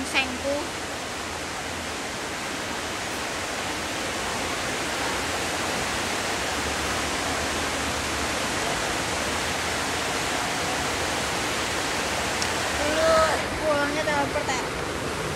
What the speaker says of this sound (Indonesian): Hujannya gede banget ya